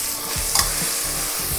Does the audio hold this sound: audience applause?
no